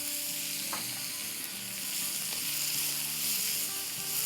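Chopped ginger sautéing on high flame for lettuce wraps, a loud continuous close sizzle with faint clinks and scrapes of stirring beneath it.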